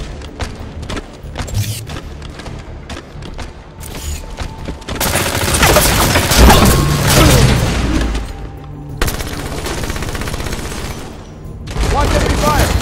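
Halo 5 Beta multiplayer gunfire crackles in scattered shots that build into a loud, sustained barrage, with booming impacts mixed in and further bursts after a brief dip.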